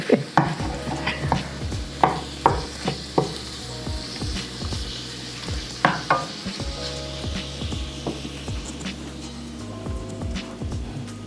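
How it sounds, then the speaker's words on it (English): Shrimp cooking in a pan, with repeated utensil scrapes and clinks in a loose rhythm over a low sizzle and background hum, and no voices. "I'm waiting for the shrimp to cook so we can eat"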